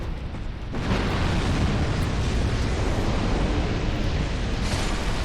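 A bomb explosion in the video game Dark Souls II: a loud, sustained roaring blast that swells in abruptly and rumbles on without talk, with a brief brighter burst near the end.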